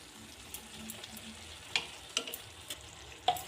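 Grated papaya curry being stirred in a pan with sugar, a soft scraping and faint sizzle with a few sharp utensil clicks against the metal, fairly quiet and steady.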